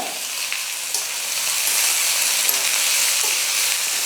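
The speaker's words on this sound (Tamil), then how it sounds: "வெங்காயம் வந்து நல்லா வதங்கட்டும்" Chopped onions and curry leaves frying in oil with popped mustard seeds, giving a steady, dense sizzle that swells slightly partway through and holds close and even to the end, with no talk.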